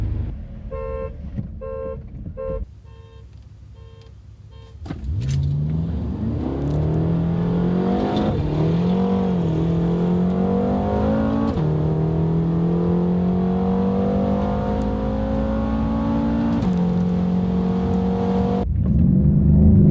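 A BMW M6 and a Mercedes CLS63 AMG accelerate hard from a stop. After short horn toots, a loud engine roar rises through the gears with rising pitch sweeps and upshift breaks, sustained and close.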